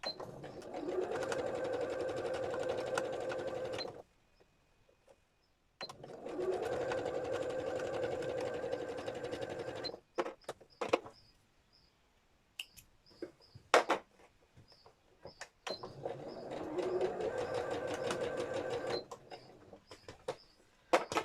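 A domestic sewing machine stitching a mini quilt, running in three sustained bursts of rapid whirring with pauses between, broken by clicks and small mechanical taps, close and alone without speech.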